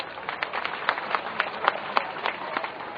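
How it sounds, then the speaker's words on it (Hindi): An audience at a Suraj Sankalp Yatra political rally in Basedi claps to welcome leaders, a moderately loud wash of applause with a regular, rhythmic beat of sharper claps running through it. "जोरदार ताली बजाकर स्वागत करिए।"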